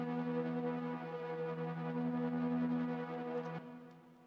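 A sustained organ pad chord drenched in EMT 250 style synth reverb holds steady, a rich harmonic drone with a shimmering tail that cuts off sharply and fades near the end.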